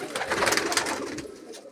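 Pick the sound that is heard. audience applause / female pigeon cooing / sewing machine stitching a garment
female pigeon cooing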